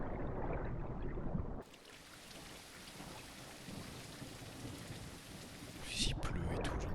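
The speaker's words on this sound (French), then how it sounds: "Il pleut et tout, j'entends rien." Steady heavy rain in the swamps of the video game The Isle pours down with a dense hiss and low rumbling, loud and continuous, briefly rising into a splashing burst near the end.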